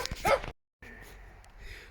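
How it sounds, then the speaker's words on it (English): A dog barks a few times in quick succession close by during an outdoor stop on a Northumberland tour, followed by a short silence and then quiet background ambience. "Oh, I'm getting barked at."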